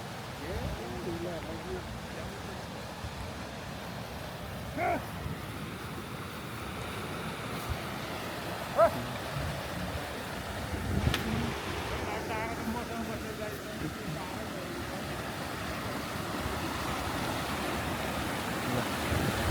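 Mountain stream water rushing steadily on the Tsho Rolpa trek at high altitude, a broad continuous roar with wind buffeting the microphone and a few brief knocks, a voice faintly present.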